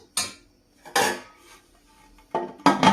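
A metal lid goes onto a cooking pot of country chicken and tomato, giving a few sharp close clanks and clatters separated by quiet pauses, with a final double clank at the end.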